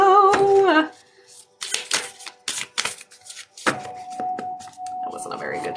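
A deck of cards being shuffled, giving several bursts of quick riffling and snapping clicks at close range, with quieter gaps between them and a steady faint tone running underneath.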